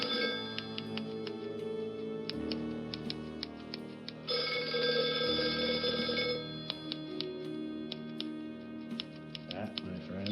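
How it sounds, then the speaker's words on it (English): Telephone ringing in a dark occult point-and-click adventure game, repeated bell trills sounding in bursts over a layered musical score with ticking, lasting around ten seconds. "Suddenly the phone rang."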